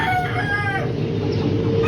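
Chickens in a storm-hit coop, with a crow drawn out near the start over steady clucking and rustle, close and fairly loud, alone without talk.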